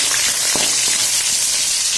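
Bay leaves and onion frying in hot oil give a steady, loud sizzle that runs the whole time, with a few soft crackles and stirring knocks and no voices.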